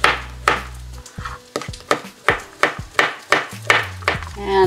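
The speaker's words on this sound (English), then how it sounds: "So we'll just do a nice little chop." A knife chops mushrooms on a cutting board in about a dozen crisp, evenly spaced knocks, close and fairly loud, with a few faint clinks in between.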